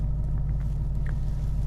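A 2019 Ford Mustang GT in sport mode cruising slowly, its engine giving a steady, deep low rumble heard from inside the car, constant and without revving.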